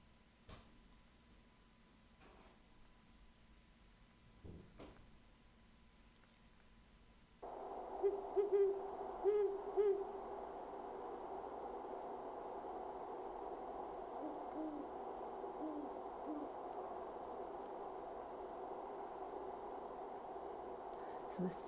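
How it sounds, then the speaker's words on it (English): Real great horned owls in a field recording, soft low hoots repeating faintly over steady background hiss, following a stretch of quiet with a few clicks. "play for you a recording from a scientist of a real great horned owl"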